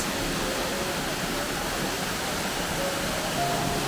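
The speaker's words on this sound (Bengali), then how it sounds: "এখন আমরা চলে এসেছি পুরুলিয়া আরও একটা জনপ্রিয় মানে ঝর্ণার সামনে যার নাম হচ্ছে দুর্গা ফলস" Durga Falls, a small waterfall in Purulia, gives a constant, even rush of falling water. It sounds moderately close and steady, with no distinct events and no voices.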